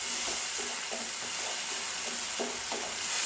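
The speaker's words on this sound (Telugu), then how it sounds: "రోస్ట్ అయిన తర్వాత ఇప్పుడు టమాటా ప్యూరీ వేసుకుందాం ఫ్రెండ్స్." Tomato puree going into a hot pan while a curry base is cooked, with a steady broadband sizzle throughout and soft, repeated scraping strokes of stirring, close and continuous, no voices.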